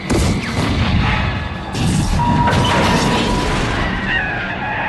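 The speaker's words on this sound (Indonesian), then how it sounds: "mobil yang dikemudikan Terminator hancur dengar beton pembatas jalan" A car crashes into a concrete road barrier in a Terminator film scene, heard as a loud, continuous roar of impact, scraping and crunching debris lasting the whole few seconds.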